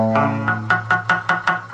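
An electric guitar chord rings briefly, then a series of choppy, dull plucks follow in a steady rhythm, the strings accidentally muted by the fretting hand and sounding deadened and buzzy.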